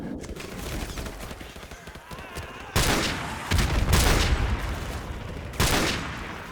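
Gunfire in the video game Call of Duty Modern Warfare Remastered comes in sharp, loud bursts of rapid automatic shots, with a quieter stretch of rumbling action before the heavy volleys.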